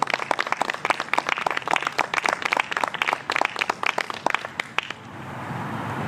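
Audience applause at an outdoor Frederick Douglass July 4th reading, a dense burst of clapping for about five seconds that then fades into quiet background murmur.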